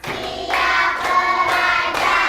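In a classroom, a group claps together in a counted rhythm, with a few soft, evenly spaced claps blurred under steady group chanting.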